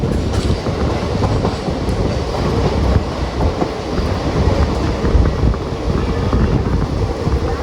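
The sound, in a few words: Chennai Egmore Express train entering Vadakara railway station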